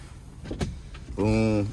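Power window motor in a 2004 BMW 325i whirring steadily as the glass travels, preceded by a couple of soft interior clicks and thumps, close and clear.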